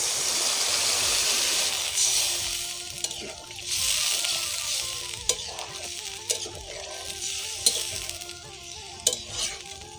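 Jackfruit curry for Bengali echor kalia sizzling in a pan, a strong hiss that swells then settles into steady frying, with occasional clicks of a utensil against the pan.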